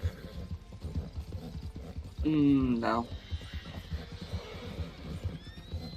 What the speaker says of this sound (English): I'm just gonna sit here and ride my horse.